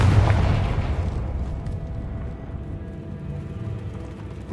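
Confringo fire-blast spell in Hogwarts Legacy: a deep booming explosion hits at the start, then a rumbling blast tail decays over several seconds, loud and close, with no talking.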